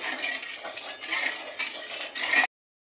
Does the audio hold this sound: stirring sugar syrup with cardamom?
yes